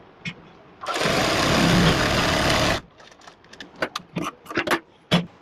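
A sewing machine runs a palazzo seam in one steady, loud burst of about two seconds, then stops, followed by scattered light clicks and taps of fabric handling.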